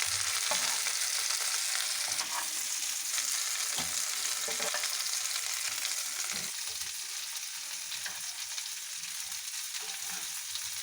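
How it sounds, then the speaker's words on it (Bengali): Chicken pieces fry in oil in a pan with a dense, continuous sizzle, broken now and then by soft scraping or stirring knocks, close up and with no talking. "এক পিট ভাজা হয়ে গেছে উল্টে নিয়েছি এবার আর এক পিট ভেজে নেব"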